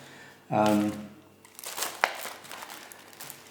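A brief, sharp crinkle of a plastic bag holding two sheets of paper being handled, followed by softer rustling and a small crackle, close by and otherwise quiet.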